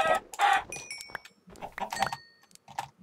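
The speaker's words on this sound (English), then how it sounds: "It seems just to be chicken. Tons of chickens." Minecraft chickens cluck in the video game, with several short, sharp bursts of clucking spaced irregularly and heard close and clear.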